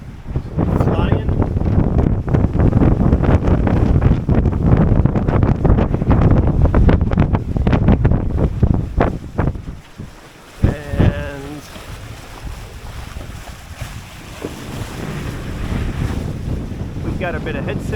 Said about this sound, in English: 17 knot breeze, sometimes blowing to 20, which is pushing us along right now at 8 knots